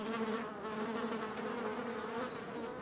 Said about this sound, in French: Le frelon est vite submergé d'abeilles.